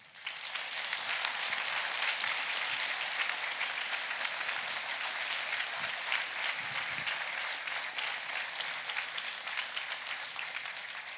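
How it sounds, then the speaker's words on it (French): Audience at a mayor's New Year address gives a long, sustained ovation for security and rescue forces, loud, even massed clapping that holds steady for over ten seconds before easing slightly, with no speech over it. "je vous demande un tonnerre d'applaudissements."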